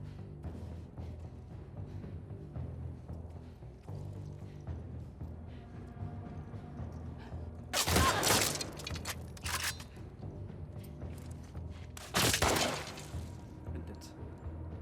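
Gunshots in The Last of Us Part II: two loud, sharp blasts a few seconds apart stand out over quieter game ambience, with a few fainter shots between them.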